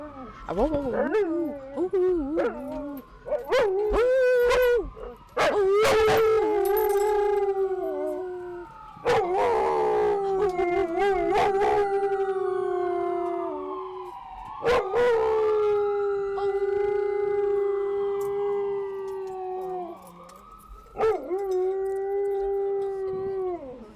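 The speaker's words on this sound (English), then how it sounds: "She's got a deep little howl." A dog howls in long, wavering, fairly deep notes, breaking off and starting again several times, close by, with a person talking in between.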